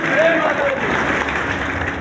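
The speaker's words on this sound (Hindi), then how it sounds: "एक बार ताली लगा दीजिए जरा जोर से" An audience claps together at a Divya Jyoti Jagrati Sansthan meditation camp in Rudrapur, Uttarakhand, a dense and steady wash of applause that holds at an even level throughout.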